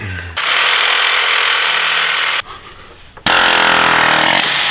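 Loud, continuous rattling bursts of a pneumatic air hammer on a Nissan 350Z bushing, two long runs separated by a brief pause, close up and harsh.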